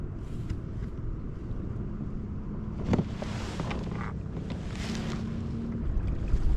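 Dual motor running on a Bonafide PWR 129 kayak out on a lake, a steady low drone with a faint tonal whine, mixed with wind rumble and water noise throughout.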